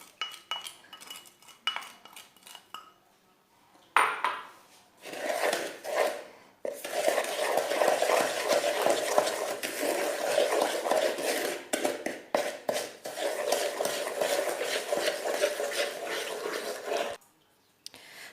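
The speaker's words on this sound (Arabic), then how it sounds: "دوكا نخلط الصفار مع السكر" Egg yolks are beaten with sugar in a bowl for a banana cake, a sustained rapid clatter of whisk against the bowl that starts in short bursts and then runs continuously before stopping.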